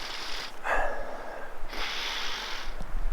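A dog snuffles at a tree trunk on a trail, with two bursts of close, breathy sniffing separated by a short pause and no talk over them.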